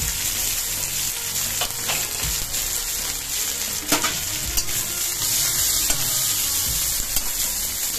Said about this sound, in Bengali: দিয়ে রসুন আর কাঁচা লঙ্কাটা দিয়ে দিচ্ছি